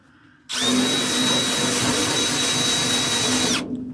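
A power drill sanding rust off a 1949 Chevy roof whirs loudly and continuously for about three seconds, starting abruptly and cutting off, with a steady high whine and grinding underneath.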